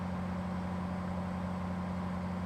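Truck engine in American Truck Simulator, a steady low droning hum with a constant tone, even and continuous with no talk.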